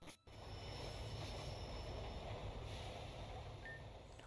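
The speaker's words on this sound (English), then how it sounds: "The train to Northwest takes so long to get here." A train pulls into a station in the Pokemon Vanguard video game, giving a faint, steady mechanical rumble with a low hum that carries on evenly after a brief cut at the start.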